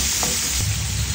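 Ginger, garlic and onion dropped into hot oil to sauté before cooking fish, giving a loud, continuous, close-up sizzle with a faint stirring scrape.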